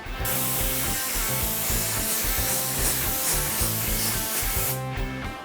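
Spray paint being applied in coats to a test card, a steady close loud hiss lasting several seconds over background music, ending in a brief burst.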